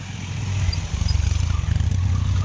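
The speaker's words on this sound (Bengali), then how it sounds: "জল দিয়ে বাইক পার করছে" A motorcycle engine chugs steadily nearby with a rushing, splashing wash behind it, loud and continuous.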